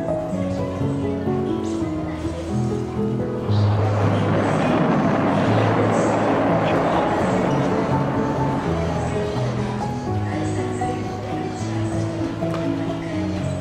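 A played-back recording of a rocket launch ignition: a broad, loud roar swells in after a few seconds and holds steady, layered over sustained tonal sounds.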